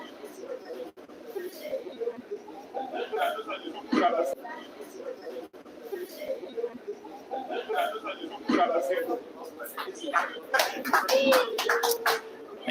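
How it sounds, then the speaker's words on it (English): Scattered clapping from two or three spectators at a billiards money race-to-16 match, brief claps rising near the end over a murmuring room with people talking. "About 2 or 3 guys did clap their hands"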